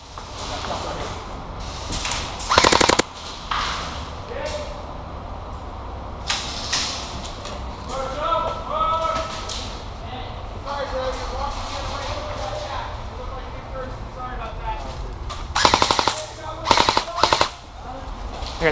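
Airsoft guns fire during a Tulsa skirmish in bursts of rapid snapping shots, loudest near the start, the middle and the end, with players talking over the action throughout.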